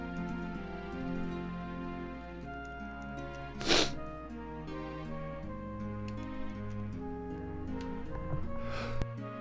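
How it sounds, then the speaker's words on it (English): A single sharp sneeze bursts out clearly midway through, over steady chiptune-style game music from Final Fantasy II, with a fainter noisy burst near the end. "I'm sneezing so much"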